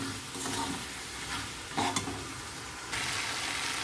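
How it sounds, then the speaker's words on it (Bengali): Fried jackfruit and potato stir-fried in a pan, a steady close sizzle broken by scraping spatula strokes that come in short bursts, with no talking. "ভেজে রাখা ক্যাঁঠাল আলুটাকে দিয়ে দেবো, দিয়ে এবারে এটাকে আমি 10 মিনিট কষবো।"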